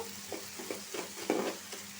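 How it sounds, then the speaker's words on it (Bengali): Dried fish (shutki) frying in a pan while being stirred: soft sizzling punctuated by several scraping stir strokes, close and fairly quiet, with no talking. "আমি একদম সুটকিটারে সুন্দর করে বাইঙা বাইজে নিচ্ছি যাতে কাঁচা গন্ধটা না থাকে"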